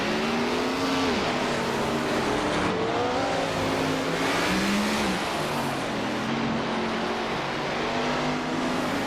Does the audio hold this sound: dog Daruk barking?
no